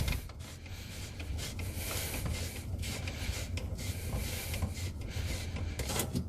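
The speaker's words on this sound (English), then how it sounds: "we're just gonna unhook it from right here, this one nut alone" Scraping and rubbing as a plastic P-trap slip nut is unscrewed and unhooked under a sink, a steady close friction noise with faint knocks, no talking.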